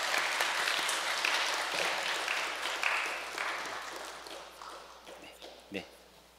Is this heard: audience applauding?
yes